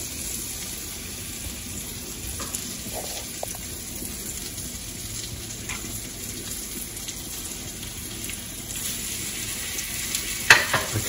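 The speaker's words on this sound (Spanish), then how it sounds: "Ahora sí voy a poner mis pedazos de salmón." Pieces of salmon fry in a pan, a steady close sizzle and crackle running without break, with a few small clinks near the end.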